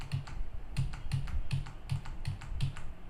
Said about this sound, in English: let me use my arrow keys.